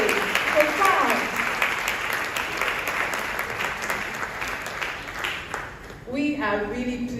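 Conference audience at a women's conference in Accra applauds a speaker, a loud continuous roar of clapping lasting about six seconds before it fades and a voice begins speaking.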